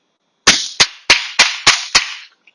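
A Tokyo Marui MTR-16 gas airsoft rifle with the MWS system fires six sharp, loud, close shots in a quick, even rhythm, each with a crisp snap and brief mechanical tail.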